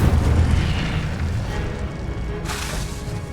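Incendio fire spell cast in Hogwarts Legacy, a loud whooshing burst of flame with a roaring rumble that swells again near the end, no talking.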